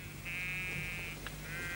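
Sheep bleating in an old documentary reconstruction of Pasteur's anthrax experiments, where the animals are fed contaminated thistles; one long, wavering bleat followed by shorter calls over a steady hum.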